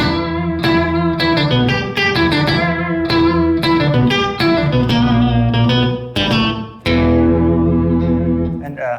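Electric guitar played through an MXR Poly Blue Octave pedal in monophonic mode, single-note lines with a thick, synthetic, fuzzy tone and sustained notes, loud and up close.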